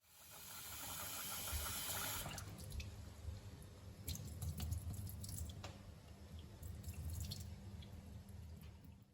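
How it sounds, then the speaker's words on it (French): Rice is rinsed under water while sweet potato soup is being prepared: soft, faint splashing and dripping with wet swishing sounds close by. "Rincer le riz"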